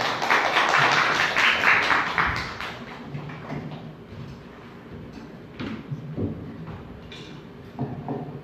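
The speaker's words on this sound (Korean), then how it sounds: "우리 목사님 앞으로 나오실 때 우리 큰 박수로 환영했으면 좋겠습니다" An audience claps at a church worship gathering in Hongdae to welcome the pastor, with dense applause loud at the start and then thinning into scattered claps and light taps.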